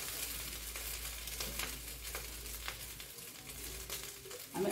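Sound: rice frying in a wok

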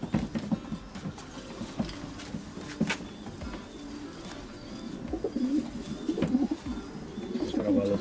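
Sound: pigeons cooing

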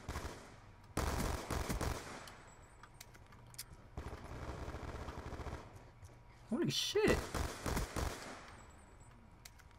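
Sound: gunfire in a video game

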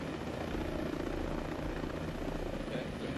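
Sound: helicopter in the video game Ghost Recon Breakpoint

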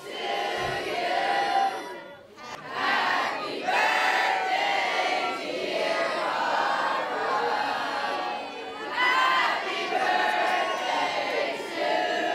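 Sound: crowd singing Happy Birthday at a sweet 16 party

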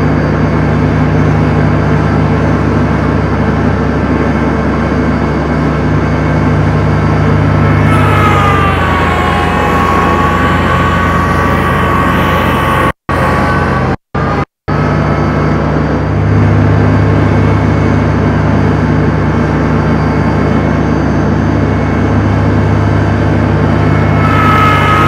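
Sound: Kubota L3301 tractor mowing with Land Pride finish mower

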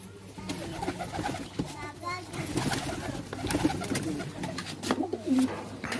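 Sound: pigeons cooing, Attari border pigeons

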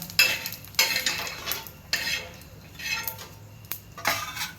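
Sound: roasting cumin seeds in a pan

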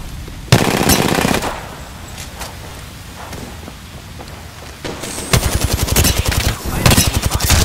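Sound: gunfire in Apex Legends video game

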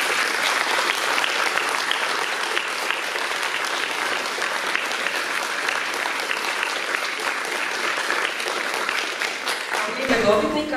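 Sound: audience applause for award winners

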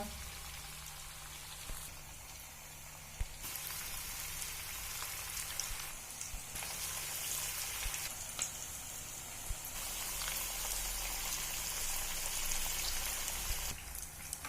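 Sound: shallow frying poha cutlets coated in rice flour

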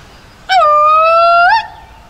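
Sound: howling call imitating Bigfoot

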